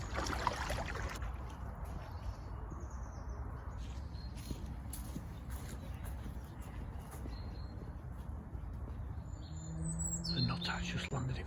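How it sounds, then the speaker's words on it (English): Birds tweeting in woodland, light scattered chirps over a steady outdoor background rush, with a few brighter calls near the end. "the birds are tweeting"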